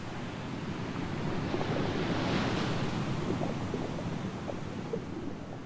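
Ocean surf rolls and crashes steadily at moderate distance, a continuous wash of breaking waves mixed with wind, with no voices.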